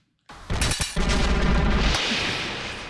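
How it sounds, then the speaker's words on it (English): Explosions in the visual novel game Cupid Parasite burst in after silence, several sharp blasts followed by a sustained loud rumbling roar that slowly fades. "All these explosions."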